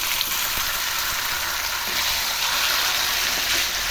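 Steamed taro leaves go into hot oil that has bay leaves frying in it. A loud, continuous hissing sizzle follows, close and even, with faint scattered crackles and no voices.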